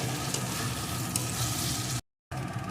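Fried spice masala for kadai chicken sautéing in a pan, a steady dense sizzle that runs on continuously before a brief cut to silence and then resumes.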